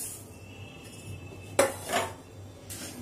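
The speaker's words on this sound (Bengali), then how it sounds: "এবার আমরা এই মুগ ডালটা শুকনো খোলায় ভেজে নেব" Moong dal dry-roasted in a frying pan gives a few sharp, close metallic clinks and scrapes of a utensil against the pan over a quiet background.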